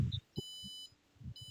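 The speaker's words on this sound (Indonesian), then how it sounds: "Oke, ini buzzernya on." An electronic buzzer on an IoT control board sounds a shrill, steady tone in two bursts, with soft low thumps underneath; close and fairly quiet.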